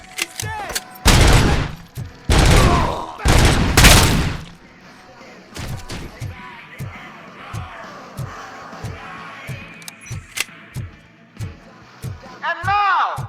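Gunfire in the video game Robocop Rogue City, dense bursts of loud shots in the opening seconds followed by scattered single shots and impacts, with game dialogue voices in between.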